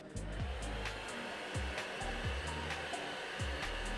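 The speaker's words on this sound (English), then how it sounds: "this hack for getting it to kind of go back with a hair dryer" A hair dryer blows steadily with a constant whooshing hum, close up, while its motor pitch dips and wavers in rhythmic cycles.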